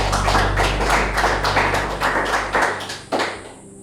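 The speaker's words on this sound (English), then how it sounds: "Can we clap for ourselves?" A group of students claps together in loud, fairly regular bursts over a low hum, then stops abruptly with one final clap.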